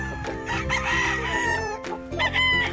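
A Sweater Gilmore gamefowl rooster on a game farm crows loudly and nearby, a drawn-out call that breaks off and is followed by shorter clucking notes.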